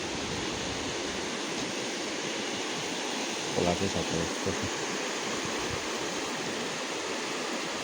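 Steady broadband rush of flowing water throughout, like a stream in a village below, with a brief voice speaking partway through.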